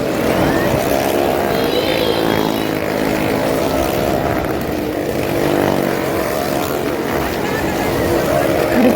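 Vehicles roaring around a well of death show at the Nirmal village fair in Vasai, a loud, steady engine drone that holds throughout with crowd noise mixed underneath.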